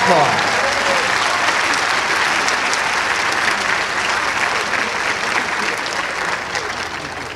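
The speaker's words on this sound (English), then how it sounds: "So that deserves" A concert audience claps enthusiastically for a winter band performance in sustained applause that slowly tapers off, with a voice faintly audible underneath.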